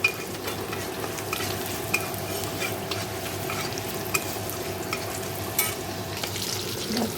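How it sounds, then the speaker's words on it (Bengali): Fish sizzles and spatters in hot oil in a pan, a steady crackling fry punctuated by occasional scraping clinks of a utensil against the pan. "ওই যে মাছ ভাজা হচ্ছে"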